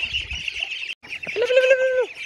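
A flock of farm ducks gathers at feeding time; soft background chatter gives way to a single loud, drawn-out quack-like call nearby.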